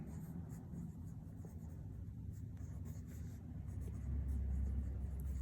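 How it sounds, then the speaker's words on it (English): A word is written by hand, giving a faint scratchy scrawl of pen strokes against a steady low background hum, with no voice over it. "And now I'll write family"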